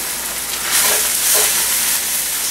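Cabbage fries in a non-stick skillet while being stirred, a loud continuous close sizzle that swells briefly as the spoon turns the leaves over.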